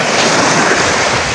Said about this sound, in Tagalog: Inabot ng alon.